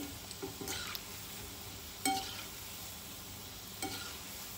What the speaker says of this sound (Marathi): छान असे फिरवत आपण भजी सगळीकडनं छान तळून घेऊ